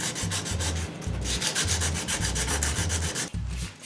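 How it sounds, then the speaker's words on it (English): Sandpaper rubbing over built-up filler layers on an Adventure Force Deuce Pro toy blaster, close and loud, in quick rhythmic back-and-forth strokes, about two per second, with no talking. "And sand I did."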